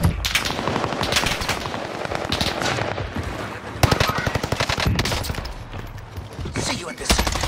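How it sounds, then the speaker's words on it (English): Dense automatic gunfire and rapid shots in a Call of Duty Warzone match on Rebirth Island, loud and nearly continuous with sharp bursts overlapping, while a player talks over the shooting. "Dude, I'm getting shot from every goddamn direction right now"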